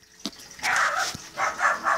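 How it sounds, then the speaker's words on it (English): A pet dog barks indoors, one sharp yip followed by a few louder, rough barks in quick succession, fairly close and clear with no talking over it. "my dog's barking again"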